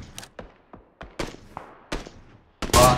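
Gunfire in a PUBG battle, with a string of sharp shots crackling at uneven intervals, some distant and some nearer, ending in a loud close burst.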